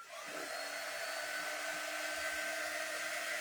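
Hair dryer blowing steadily on a freshly painted craft piece made from a board, a continuous close whir holding an even level throughout with no talking.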